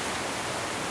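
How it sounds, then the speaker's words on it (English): Strong windstorm gusts in Walla Walla roar as a continuous, loud broadband rush under the eaves, steady and unbroken for a short stretch with no talking. "The wind's really picking up."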